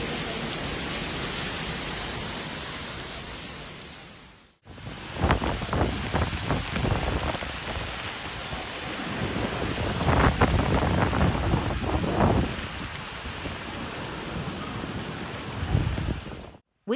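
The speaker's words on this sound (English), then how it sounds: "this unexpected hailstorm in the interior of Valencia" A severe hailstorm batters Villar del Arzobispo in inland Valencia, Spain. A dense, roaring clatter starts abruptly after a steady windy hiss and stays loud and continuous, with heavier bursts of impacts throughout.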